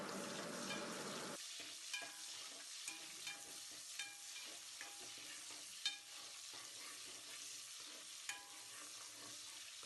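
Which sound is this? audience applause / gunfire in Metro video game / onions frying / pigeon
onions frying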